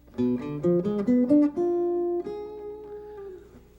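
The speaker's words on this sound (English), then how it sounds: "And occasionally you might want a diminished triad, one of those weird sounding chords like that." Several plucked acoustic guitar notes rise one at a time in a quick diminished triad arpeggio, ending on a longer ringing note that fades, close and clear.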